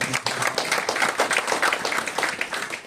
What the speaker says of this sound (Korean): 다시 한 번 격려의 박수